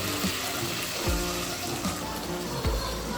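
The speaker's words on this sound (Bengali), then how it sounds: "এখন অল্প জল দিয়ে দেবো, গরম জল দিয়ে দেবো।" Hot water pours steadily into a pan of potato and spice curry, making a continuous close splashing wash with a few faint knocks.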